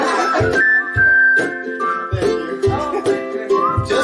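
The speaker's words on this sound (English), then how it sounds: "I'm supposed to whistle" A person whistles a wavering, uneven melody over a backing track with a steady low beat.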